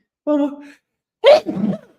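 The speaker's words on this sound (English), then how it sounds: "I gotta sneeze." A single close, loud sneeze bursts out after a short voiced intake of breath, followed by a brief breathy trailing sound.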